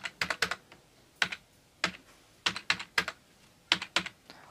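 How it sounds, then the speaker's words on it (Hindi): Typing on a computer keyboard: bursts of sharp key clicks in quick clusters with short pauses between, close and clear, no speech. "इस पर टाइप करते हैं"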